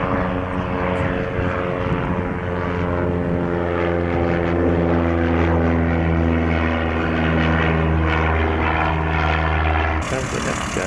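A propeller airplane rolls for takeoff, its steady droning engine tone loud and continuous with strong harmonic hum, holding throughout before cutting off abruptly near the end; faint voices sit under the engine noise.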